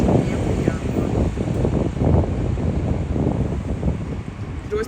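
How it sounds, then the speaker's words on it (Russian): Strong, cold wind buffets the microphone on a walk in Puerto Madryn, Argentina, a constant broadband roar with gusty surges throughout and no other clear sound. "Очень сильный ветер."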